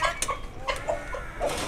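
An Aseel hen clucking, a few short, close clucks scattered over a moment against a low background hum.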